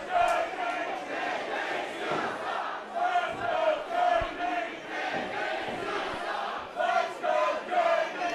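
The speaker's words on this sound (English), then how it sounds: "Crowd is split." A crowd at a professional wrestling event chants and cheers in a large venue, with a dense roar and rhythmic, split chanting that swells and dips continuously throughout.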